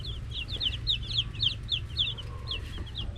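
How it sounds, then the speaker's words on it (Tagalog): High, sweet peeping of young native chicks raised for the poultry trade, a quick run of repeated chirps close by, riding over a low steady hum with no talking. "Boses sisiw pa."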